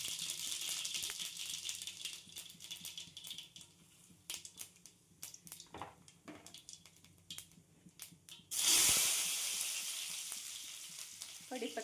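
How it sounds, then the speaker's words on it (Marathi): Mustard and cumin seeds sizzle and crackle in hot oil in a pan for tempering, close popping and rattling bursts that swell into a loud hiss near the end. "राई जिऱ्याची फोडणी द्यायची।"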